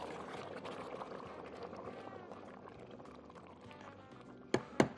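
Boiling water pours steadily into a pot of rice with a continuous splashing rush, then two sharp knocks close by near the end.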